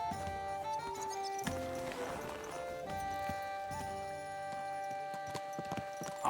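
A horse's hooves clip-clop at an even walking pace in the medieval video game Kingdom Come Deliverance 2. The clear, close steps are layered over soft game music and ambience.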